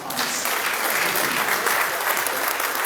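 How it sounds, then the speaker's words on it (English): A ceremony crowd applauds for an army chief at a decoration ceremony for newly promoted senior officers, steady dense clapping filling the whole stretch at even loudness, with no voices over it. "May I respectfully offer another round of applause for the Chief of Army."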